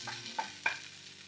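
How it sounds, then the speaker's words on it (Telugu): Green chillies and garlic fry in a hot pan with a soft, faint sizzle, marked by two quick metallic taps of a stirring spoon. "పచ్చిమిర్చి వెల్లుల్లి ఇలా కాస్త వేగిన తర్వాత"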